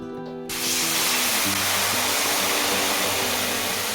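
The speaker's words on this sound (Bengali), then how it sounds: "কড়াইয়ে জল দিয়ে দিলাম" Water poured into a hot wok, a loud sudden rushing hiss that starts abruptly and continues steadily, with a low hum underneath.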